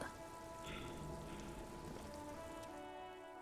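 Steady rain in the video game Disco Elysium, a dense, even patter falling continuously without a break, quiet and unaccompanied by any voice.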